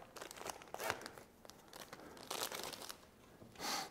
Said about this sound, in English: I guess we should get a plastic bag out for some of this hardware.